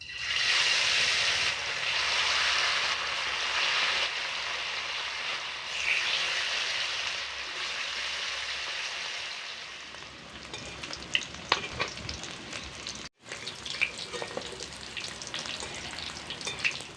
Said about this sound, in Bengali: তেলটা গরম হয়ে গেছে। এবার তেলের মধ্যে একে একে মাছগুলো দিয়ে দিচ্ছি।